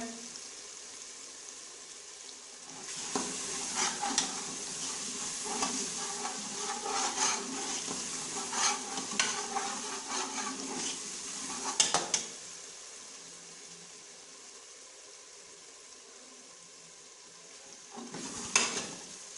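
Masala cooking in a pan over a medium flame for mutton ojhri, sizzling steadily with intermittent stirring and scraping clatter through the middle, then quieter simmering and a final burst of stirring near the end.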